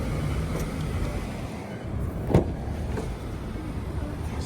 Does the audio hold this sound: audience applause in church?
no